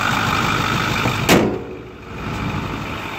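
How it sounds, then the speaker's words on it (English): A 2008 Ford F450 King Ranch four-wheel-drive dually pickup with a Power Stroke engine runs steadily at close range, a continuous rumbling drone with one brief louder burst midway and no talk over it. "Ford F450. Motor runs perfect."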